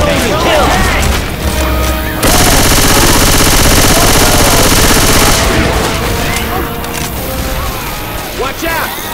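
Sustained automatic gunfire in the zombie shooter Left 4 Dead 2, a dense rapid burst lasting a few seconds amid other crashes and shots, with players talking over the game sounds.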